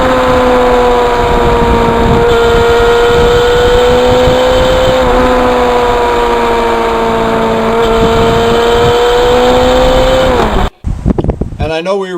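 A 1991 Yamaha FZR 1000 motorcycle on a summer road ride toward Chester holds a loud, steady engine hum with a slight pitch dip near the end, before the sound cuts off abruptly into brief scattered noises.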